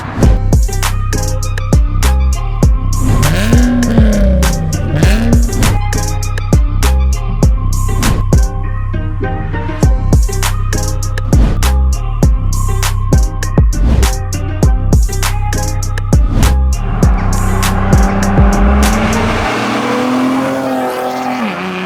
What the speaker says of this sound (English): it's got a really loud exhaust as well